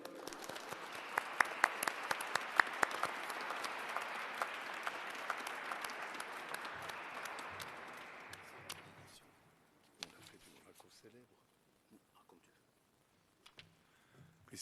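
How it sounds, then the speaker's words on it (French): Church congregation applauding at the close of a novena Mass, a sustained, fairly distant patter of many hands that fades after several seconds, leaving a few scattered claps in a quiet, reverberant space. "je vous invite à les applaudir"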